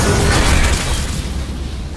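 An Aleph deposit in the video game Spacelords explodes after being shot, giving a loud, close, rumbling blast with a heavy low-end roar that slowly fades over two seconds.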